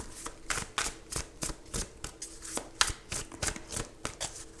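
Tarot cards being shuffled and handled close up, a rapid run of crisp riffling flutters and snaps in quick succession, with no voices.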